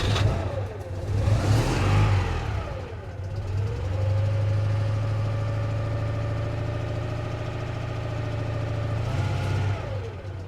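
A Citroen Ami 8's small two-cylinder engine catches and runs, rising in a couple of revs before settling into a steady, buzzy idle and then revving again near the end, heard close up and alone.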